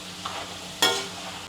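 A snack fried in a pan of hot oil: a soft, steady sizzle, then a sudden loud burst of crackling bubbling that fades over the following half second, close by with no talking.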